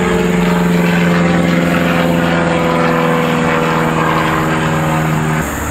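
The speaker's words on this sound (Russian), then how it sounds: "Сейчас самолетики летят здесь." Small propeller planes flying overhead, a loud steady droning engine hum that stays constant and close before cutting slightly at the end.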